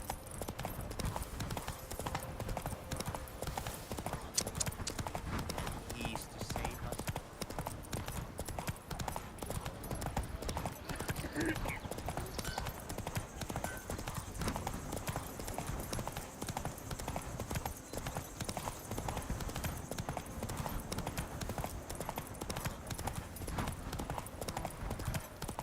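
Hooves pound steadily as a horse gallops in the video game Witcher 3, a continuous rhythmic clatter lasting the whole stretch over constant game ambience, with a faint neigh at one point.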